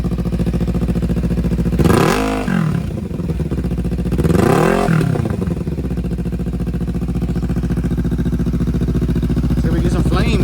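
A 2014 Kawasaki Ninja motorcycle with an aftermarket Ransoto exhaust muffler revs sharply twice from a steady idle, each rise climbing and then falling back. The engine is loud and close and keeps running at idle afterwards.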